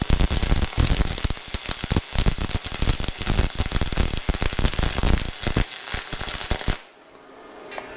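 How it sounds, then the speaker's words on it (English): A YesWelder MIG 250 PRO welds 3/8 inch aluminum with a loud, continuous crackling sizzle full of rapid pops, close up, then cuts off abruptly to near silence with no talking. "So the machine is all set up and ready to start welding some aluminum."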